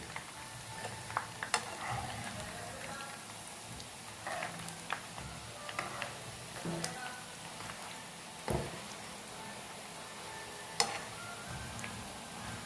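Murukku deep-frying in hot oil while the pieces are turned over, a steady bubbling sizzle broken by sharp clinks and scrapes of a utensil against the pan.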